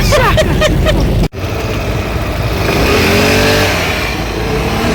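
A motorbike engine revs up and pulls away, a loud close mid-pitched drone that rises and settles after a brief cut, running continuously as the ride begins.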